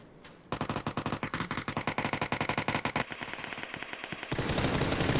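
Rapid automatic gunfire in an online shooter game, a long run of sharp, evenly spaced shots that thins out and gives way to a louder, denser burst of noise at the end, with no talk.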